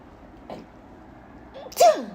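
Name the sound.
sneeze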